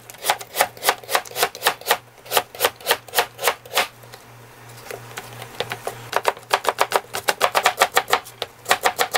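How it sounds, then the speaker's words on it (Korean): Kitchen knife rapidly chopping radish on a cutting board for tteokbokki, crisp even strokes in quick bursts with a short pause midway, close and loud with no talk. "그러면 무를 좀 썰어 볼게요."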